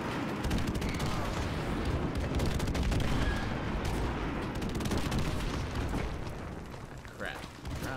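Dense gunfire and explosions in Call of Duty Modern Warfare Remastered, a Domination match on the Bog map, with rapid shots and booms packed into a constant loud battle din, mixed with voices.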